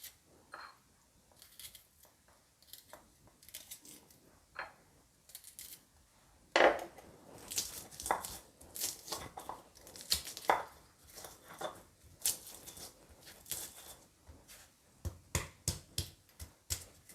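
Shallots are ground by hand after coriander, producing irregular knocking and crushing strokes, sparse at first and then faster and denser, fairly close and fairly quiet.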